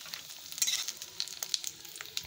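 Papad sizzling in hot oil at close range, a continuous crackle with bursts of sharper pops and spattering that rise and fall; no talking.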